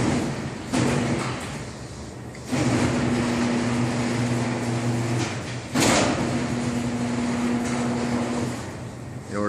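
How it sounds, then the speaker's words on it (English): A double garage door driven by an electric opener rumbles and hums as it closes, a steady motor drone in long runs with clunks where it stops and restarts. "Double door is hanging up when it closes."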